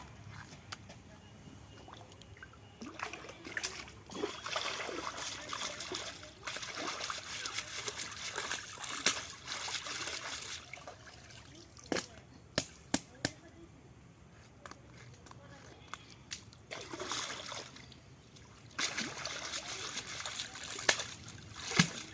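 Koi fish being washed by hand in water: intermittent splashing, sloshing and trickling with sharp clatters, close and fairly quiet, and a voice speaks faintly at times.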